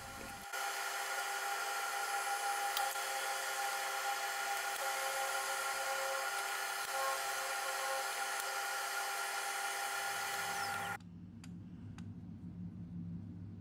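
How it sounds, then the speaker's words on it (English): Milling machine cutting a 10mm square pocket, 3mm deep, in a metal block held in a vise set to 45 degrees, a steady high whine that runs for about ten seconds before cutting off, followed by quieter low machine hum. "set the vise to 45 degrees and machine a pocket for the insert"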